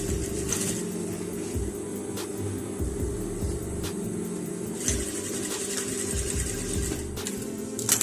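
A sewing machine runs steadily while a band is stitched onto an off-shoulder princess bustier gown, its close, continuous motor hum and needle chatter pausing briefly a few times before resuming.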